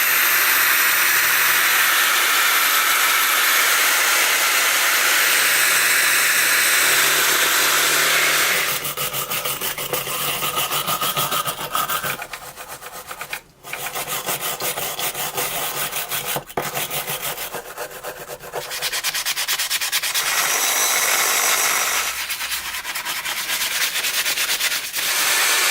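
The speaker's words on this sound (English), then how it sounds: "we'll just go ahead with the rotary brush" A rotary wire brush grinds rust off a pair of Buck & Hickman 5-inch pliers, a loud continuous abrasive whir that shifts in pitch and pressure, briefly easing off and dropping out before biting back in.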